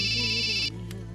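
A phone ringtone rings in a Telugu film scene, a steady electronic tone that cuts off abruptly after well under a second, leaving a quiet low hum.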